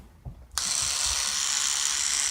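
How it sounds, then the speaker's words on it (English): An electric toothbrush switches on abruptly after a brief quiet moment, then runs with a steady, loud high-pitched buzz that continues without a break. "electric toothbrush. See how the dog looked at that when I turned that on?"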